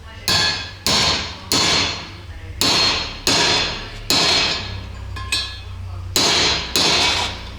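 Valve guides are hammered into a Renault Master M9T bi-turbo engine head: about ten sharp, ringing metallic blows at an irregular pace, loud and close, with a few words spoken between strikes.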